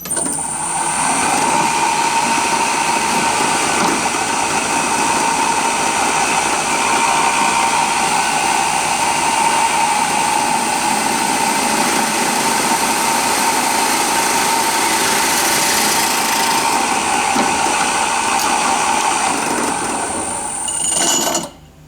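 A twist drill bores through Colorbond sheet metal with a loud, unbroken high-pitched motor whine and grinding hum that holds steady for about twenty seconds, then cuts off abruptly.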